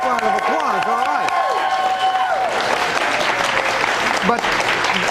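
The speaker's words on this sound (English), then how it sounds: "Now let's give this woman a round of applause." Studio audience applauding a baker on a TV talk show, steady mass clapping with a few cheers; sustained hand-clap noise throughout, with a brief tonal musical sting at the start fading out.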